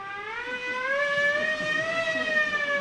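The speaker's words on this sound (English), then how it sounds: "turn the siren wide open" A car siren wails wide open on a snowy Christmas Eve street in a small town, a loud steady rising tone held for about three seconds with no voices over it.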